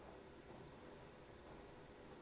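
A countdown timer finishes with a single steady electronic beep, high-pitched and about one second long, against a faint hum.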